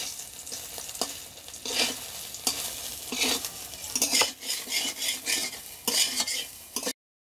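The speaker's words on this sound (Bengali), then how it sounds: "সয়াবিনটাকে এখন বাদামি কালার করে ভেজে নেব।" Boiled soybean chunks fry in oil in a wok, a continuous sizzle broken by repeated scraping and stirring strokes of a utensil against the pan, close and clear with no talking.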